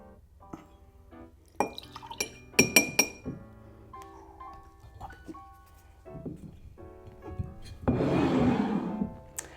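Pikesville rye whiskey poured into a glass for an Old Fashioned: scattered glassy clinks and drips lead into a short, steady splashing pour near the end, close and fairly quiet, with no talking.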